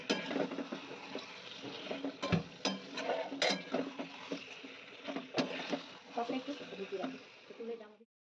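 Chicken meat with spices being stir-fried in a home kitchen pan, with a spatula scraping and clattering against the metal amid sizzling, some sharp knocks, while someone talks over the cooking.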